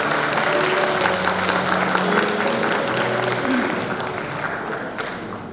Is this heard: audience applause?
yes